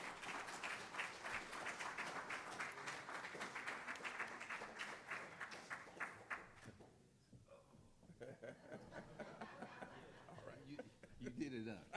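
An audience at a health talk on prostate cancer claps for Ken Griffey Sr., a dense run of applause for about seven seconds, quiet and somewhat distant, that fades into someone speaking.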